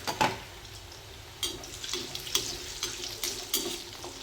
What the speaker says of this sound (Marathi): सर्व कोफ्ते टाकून आणि तळून घ्यायचे आहे मंद गॅसवर